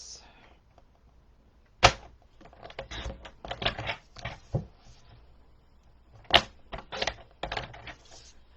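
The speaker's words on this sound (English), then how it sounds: "I'm going to grab my paper trimmer. I'm just going to trim this out. Sometimes it takes a couple swipes." Paper trimmer slicing through card stock during card making: quiet, close clicks and short scraping swipes, repeated a couple of times.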